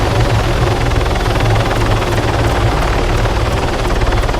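A video game helicopter lifts off with a loud, steady rotor chop and turbine whine that stays close and constant throughout, with no talk over it.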